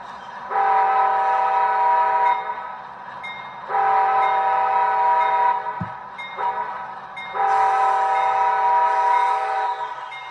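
Custom HO scale model locomotive horn, three loud sustained multi-tone blasts separated by short pauses, with a soft rumbling motor underneath and a small knock between the second and third.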